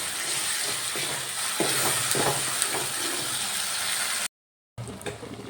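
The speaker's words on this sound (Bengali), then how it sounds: "কাজু আর চারমগজ যে পেস্টটা বানিয়ে রেখেছিলাম সেটা দিয়ে দিলাম আবারও ভালো করে কষিয়ে নেব" Spices with a cashew and melon seed paste fried and stirred in a pan for a vegetarian potato curry, a steady close sizzle with scraping spoon strokes, briefly cut to silence before the sizzling resumes.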